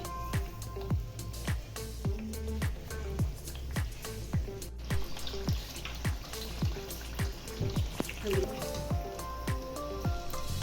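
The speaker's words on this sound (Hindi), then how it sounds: "ये बैगन लेके इसमें डिप करेंगे, इस तरीके से इसको हल्का सा, फिर इसको फ्राई करेंगे।" Eggplant pakoras frying in hot oil give a steady crackle and sizzle, with a regular dripping, popping rhythm under a voice talking throughout.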